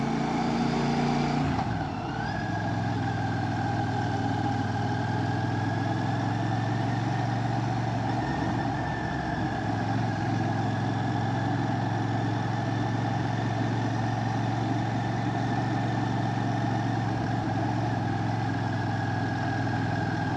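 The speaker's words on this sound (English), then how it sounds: "I know Royal Enfield use this 650 engine in a number of platforms" A Royal Enfield Shotgun 650 motorcycle's 650 twin engine runs steadily, a close, continuous low rumble with a constant note throughout and no talking.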